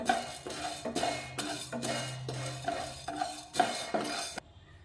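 A peanut chutney mix being fried on low flame in a pan, with a steady series of close spatula scrapes and stirring strokes over a soft background, and no voices.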